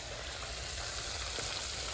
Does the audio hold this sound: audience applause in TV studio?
no